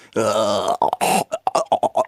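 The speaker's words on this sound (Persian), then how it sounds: "ببین چرا آروغی بیاد بیرون" A loud, drawn-out burp rumbles close up, then gives way to short, choppy vocal bursts.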